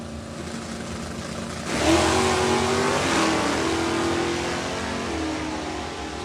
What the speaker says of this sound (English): it looks like Jeff Blanchard will find the finish line first down there with the Mustang